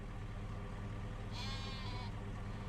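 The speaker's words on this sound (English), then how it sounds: "Oh no, it was a sheep." A sheep bleats once in Farming Simulator 25 on the Witcombe Park Farm map. The single clear, wavering bleat lasts under a second and sits over a constant low ambient rumble, with no talking.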